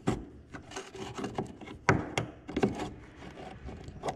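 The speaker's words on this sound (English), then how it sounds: "just take the screwdriver, raise it up" A screwdriver pries up a plastic bumper cover clip on a 2017-or-newer Chrysler Pacifica, giving close, uneven scraping and rubbing with sharp clicks and snaps in short bursts.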